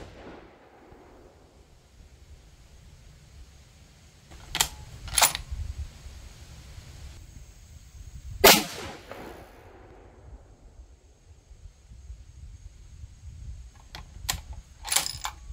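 Several rifle shots fired while testing an EC tuner brake with a poorly performing load, sharp loud cracks spaced apart: a pair near the middle, one strong report, then a few more toward the end, with no talking.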